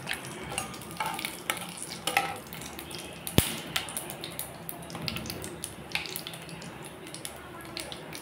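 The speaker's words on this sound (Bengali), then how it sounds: "আবার দিয়ে দিলাম সর্ষের তেল কড়াইতে, দিয়ে দিলাম কালো জিরা" Nigella seeds hit hot mustard oil in a wok, giving a steady crackling sizzle with some stirring scrapes and one sharp clack partway through.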